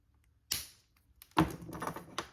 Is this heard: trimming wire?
yes